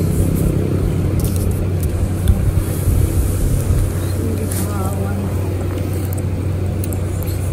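A Nissan Grand Livina engine with a worn alternator bearing runs at close range, giving a loud, steady, rough drone with no break.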